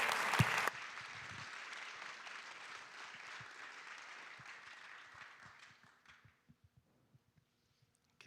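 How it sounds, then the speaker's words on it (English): An industry summit audience applauding after a speaker's presentation, a loud burst opening into steady clapping that gradually fades out to a few scattered claps and near silence. "please join me in giving them a warm round of applause"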